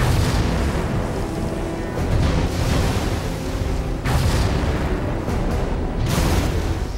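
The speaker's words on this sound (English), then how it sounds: "Someone took a shot at me." Gunfire in the video game CrossFire, heard as heavy booming blasts over a loud, rumbling battle din, with several strong bursts standing out through the continuous noise.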